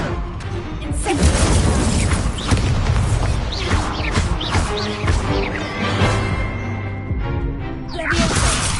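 Fire spells blast off in Hogwarts Legacy combat on PS5, a loud run of whooshing bursts, crashes and booming impacts in quick succession, with a short lull near the end before another burst.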